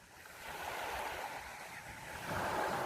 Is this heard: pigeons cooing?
no